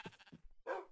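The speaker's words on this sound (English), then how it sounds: "he is killing that sheep." A sheep being killed in Minecraft during a hardcore survival game gives a few short, clipped bleats followed by a longer, louder cry near the end, heard up close with no talking over it.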